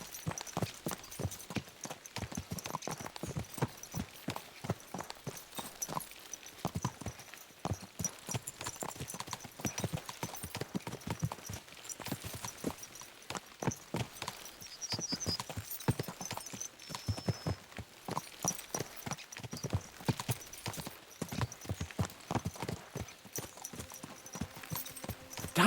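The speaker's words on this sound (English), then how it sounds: "Let's really spur these horses on, eh?" Horses gallop in Kingdom Come Deliverance 2, hooves clip-clopping in a steady fast rhythm of sharp thuds that runs the whole way through, with faint ambient tones behind.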